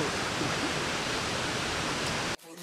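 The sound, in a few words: waterfall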